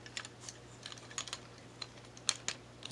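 Plastic parts of a Transformers Long Haul Voyager toy click and tick together in a string of faint, light taps close by, with a low steady hum underneath and no voices.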